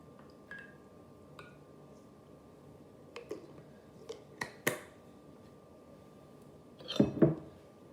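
Eggnog cocktail made with cognac being stirred in a glass, heard as a few scattered light clinks and taps followed by a louder rattling burst near the end, close and otherwise quiet.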